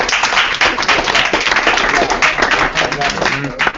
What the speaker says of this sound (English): Why don't you give a nice round of applause?